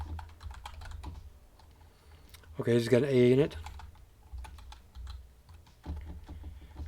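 Typing on a computer keyboard, quick quiet clicking keystrokes in short bursts, close and soft, with someone talking in between and a brief louder sung or exclaimed phrase partway through.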